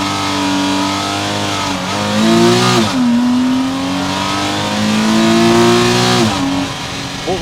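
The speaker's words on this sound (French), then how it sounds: "Test de la sonorité avec le launch control depuis l'intérieur." A Porsche Cayman engine revs hard at full throttle on launch control, heard from inside the cabin, a steady loud roar with two sharp rises in pitch before settling again.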